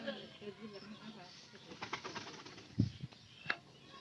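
Domestic pigeons coo softly nearby in a quiet loft, with a few sharp wing flaps and rustles standing out against the faint background.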